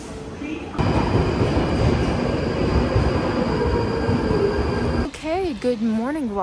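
A train rumbles steadily along the rails, a dense, loud roar with a faint high whine, cutting off abruptly before a voice speaks briefly at the end.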